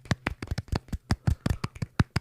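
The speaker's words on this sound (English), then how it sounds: "can we get one more golf clap today?" A quick golf clap: a burst of scattered hand claps, about a dozen light, uneven claps from a few people, close by, with no talking.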